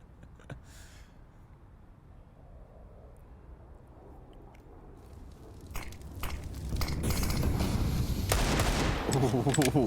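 AK rifle fire in a Counter-Strike match, sparse clicks early giving way to a swelling burst of rapid gunshots that grows loud and dense toward the end, with voices present.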